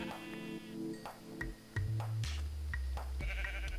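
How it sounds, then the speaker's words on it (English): A pink sheep in Minecraft bleats several times in short, clear calls amid scattered game sound effects, with a low droning tone coming in partway through. "LOL, a pink sheep."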